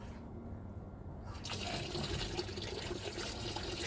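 Water rushes through a pipe on a home-made bead filter once the valve is switched to rinse, beginning after a quiet start and then flowing steadily and loudly to the end.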